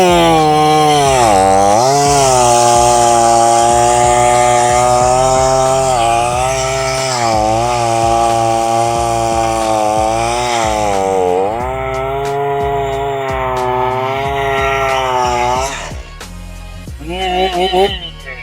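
Chainsaw fitted with a standard full-chisel RDR chain cuts through a piece of wood, a loud steady engine roar that wavers with load for about fifteen seconds before dropping off to idle sputters at the end.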